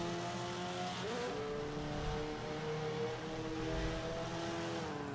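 A 2005 Subaru WRX in B-class tune, driven in the Forza 5 video game, accelerates hard with a steady rising engine whine and one quick upshift early on. No one speaks.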